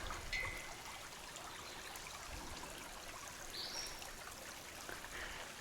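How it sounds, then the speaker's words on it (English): Creek water along a wooded hiking trail, a faint steady trickling and gurgling stream flowing continuously at a distance with no voices over it. "This is a great creek."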